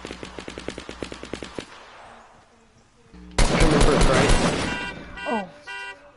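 In Fortnite, a rapid burst of gunfire crackles at the start, then a louder blast and a jumble of chaotic game sounds follow, with an excited player talking over it.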